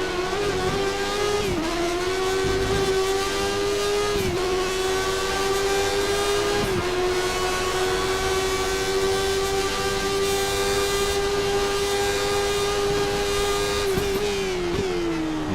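A Formula 1 race car engine in the game F1 2013, a Lotus at Catalunya, screams at high revs with a steady whine, dipping briefly at gear changes and off-throttle moments before holding loud and constant.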